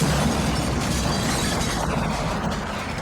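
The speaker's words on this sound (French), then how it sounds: "On s'en fout, il y a une explosion." Explosion from the Double Dragon movie, a sustained broadband blast of roaring rumble and debris lasting about three seconds, loud and steady with a slight fade at the end.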